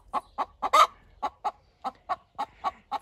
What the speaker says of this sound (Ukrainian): Це кури породи брезе, брез гальци, французька куриця.